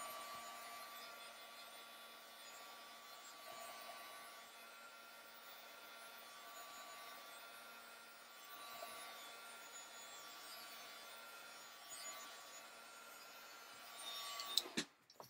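A heat tool blows steadily over a mixed-media art journal page, a faint, continuous fan whir with a soft hum, ending with a brief clatter as it is switched off or set down.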